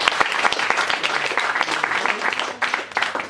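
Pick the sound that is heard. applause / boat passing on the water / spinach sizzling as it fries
applause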